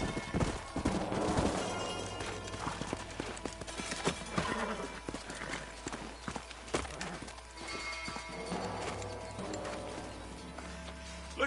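Horse hooves clip-clop steadily in Red Dead Redemption, close and busy, mixed with game ambience, gunfire-like cracks and occasional whinnies throughout.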